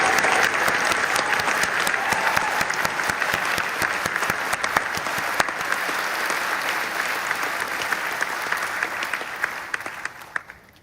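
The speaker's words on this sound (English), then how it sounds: "Let's give our new graduates a round of applause one more time." A large audience at a university graduation ceremony applauds the new graduates, dense sustained clapping that holds steady for about ten seconds before thinning out and fading, with a few scattered final claps.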